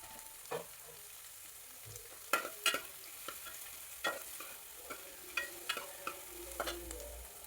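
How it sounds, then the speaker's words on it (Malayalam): Onion, green chili, garlic and ginger sautéing in a pan for a Kerala-style egg curry, a steady low sizzle punctuated by scattered scraping and clinking stir strokes, fairly close and without speech. "ഈ ഉള്ളി അരിഞ്ഞത്, പച്ചമുളക്, വെളുത്തുള്ളി, ഇഞ്ചി ഇതെല്ലാം ഇട്ടൊന്ന് വഴറ്റിയെടുക്കാം"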